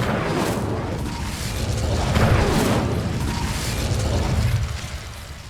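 An Incendio fire spell explodes in the Hogwarts Legacy video game, a sustained roaring, rumbling blast that swells and fades over several seconds, loud and close, with no voices.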